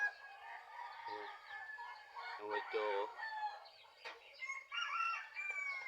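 Gamecock roosters crowing and clucking, several calls overlapping in close, loud bursts, with a brief spoken phrase among them.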